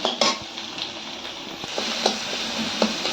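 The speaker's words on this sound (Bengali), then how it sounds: "টমেটোটা কিছুক্ষণ এইরকমভাবে কষিয়ে নেব" Chopped tomato sautéing in a pan with onion, green chili and ginger paste, with light sizzling under clinks and scrapes of a spatula stirring against the metal pan.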